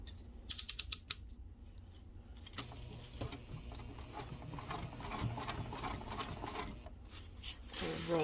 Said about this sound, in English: So now you're going to be stitching along the bottom edge.